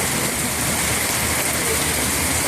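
Rain pours down in Hyderabad, India, a dense, even hiss of drops striking surfaces that holds steady throughout with no break.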